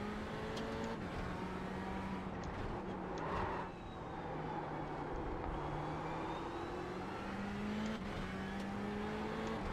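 A GT3 race car engine in the iRacing sim, during an IMSA race at Interlagos, drones continuously at high revs, its pitch rising and dipping with gear changes and throttle, and no voices.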